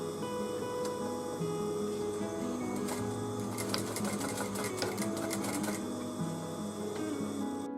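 A sewing machine stitches a dolly bag made from scrap velvet fabric, with a continuous close mechanical whir and rapid rhythmic needle clatter, plus a brief faster burst in the middle.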